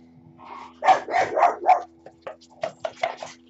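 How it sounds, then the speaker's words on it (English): A dog barks and yips several times in short bursts, fairly close, over a steady low hum. "Oh my God, my dog's too barking now."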